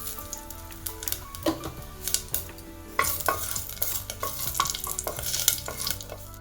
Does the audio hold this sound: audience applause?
no